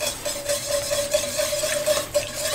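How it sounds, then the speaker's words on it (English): A whisk works cream into a pork blanquette sauce in a pan, quick rhythmic swishing and light metallic scraping over a faint steady hum, close and moderately loud. "You then use a whisk"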